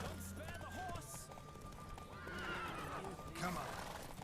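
Horse neighing and galloping in The Witcher 3 video game, a loud whinny over steady clip-clop hoofbeats, with voices talking over the action.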